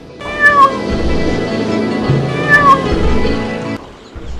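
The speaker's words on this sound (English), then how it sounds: "And the youngest son had the miller's cat." A cat meows twice, loud and close, each call a drawn-out tonal cry about two seconds apart, with a rumbling background between them and no speech.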